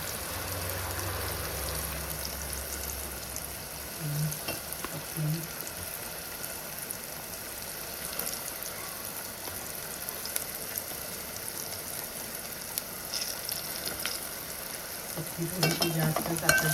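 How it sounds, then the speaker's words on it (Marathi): Chopped tomatoes cook in oil in a kadhai for a capsicum masala dish. A soft, steady frying hiss runs throughout, with occasional stirring scrapes and faint clinks and some quiet background voice. "आणि मस्त असं तेल सुटेपर्यंत टमॅटो शिजवून घ्यायचं"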